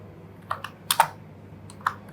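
Code is typed on a computer keyboard in a handful of sharp, close key clicks: two taps, then a quick pair, then a last tap after a pause, with no talk.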